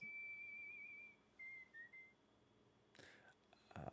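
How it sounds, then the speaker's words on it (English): The Frederick leader in the video game Civilization 7 whistles a clear, melodic tune in a few short phrases, quiet and close, followed by a brief rustling burst and faint background noise. "The best part about him is that he will whistle along to the theme song."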